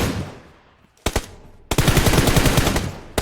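Close automatic gunfire in a video game shooter: a short burst of rapid shots, a brief pause, then a longer sustained rattling burst, loud with sharp reports and a decaying echo before the firing begins.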